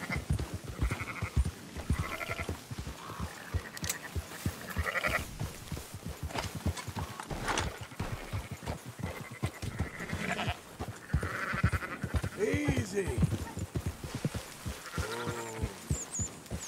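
Sheep bleating in Red Dead Redemption 2 during a herding mission with goats, repeated wavering bleats from several animals, some close and loud, over continuous game ambience and hoof movement, with no talk.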